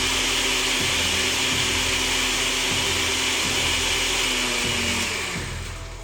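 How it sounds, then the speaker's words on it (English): A blender grinds chili for a meat-and-chili dish in a home kitchen, a loud, steady motor whir that dips in pitch every second or so as the blades churn the mixture. "Ahí está, moliéndose el chilito"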